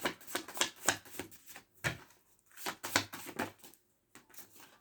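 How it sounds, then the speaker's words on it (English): Cards riffle and slap together in quick bursts, a few separate shuffles with short pauses between, close and fairly quiet. "Two more shuffles here, Spirit."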